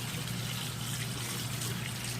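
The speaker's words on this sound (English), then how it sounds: "when the water starts running clear on from our brush, then we know that we've gotten most to all of our product out" Tap water runs steadily over a makeup brush being rinsed clean, a continuous close trickle and splash with a low hum underneath and no voices.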